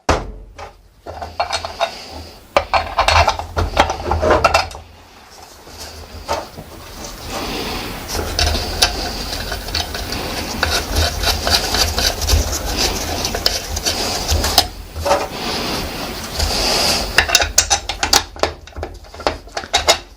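Metallic clinks, ratcheting and scraping sound from a wrench tightening bolts on a Vespa Large gearbox casing, arriving in irregular bursts with brief pauses, close and fairly loud throughout.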